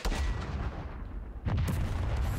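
A heavy tank cannon booms in a World War II video game set on Omaha Beach, with a sustained rumbling barrage and a second loud blast about halfway through, with no talk over it.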